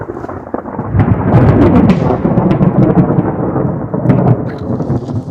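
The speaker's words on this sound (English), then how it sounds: "A big rainstorm to cool things off. Lightning kind of everywhere." Loud rolling thunder rumbles through a heavy rainstorm during an Arizona elk hunt, swelling after a moment and sustained over a constant hiss of pouring rain, with no voices.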